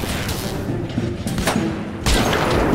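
Loud grenade blast and rumbling booms in the shooter The Bureau: XCOM Declassified, a dense wash of explosive noise with a fresh heavy burst near the end, no talk heard.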